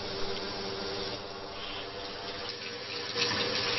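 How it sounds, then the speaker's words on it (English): Jewelry held under a running tap, a continuous stream of water splashing steadily with small shifts in tone, quiet and alone. "Holding the jewelry under running water will help remove the debris from the jewelry."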